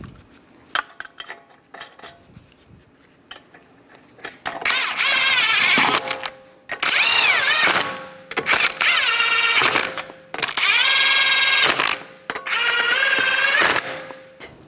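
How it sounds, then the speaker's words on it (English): An impact gun drives the lug nuts onto a wheel of a 2011-2019 Ford Explorer, with five loud, close bursts of hammering rattle separated by short pauses after a few quiet clicks. "torque the lug nuts to 100 foot-pounds in a cross pattern to tighten the wheel down evenly"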